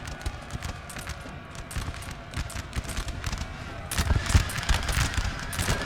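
Massed musket volleys crackle in dense, rapid bursts during a Napoleon: Total War battle, mixed with galloping cavalry hooves, building louder toward the end.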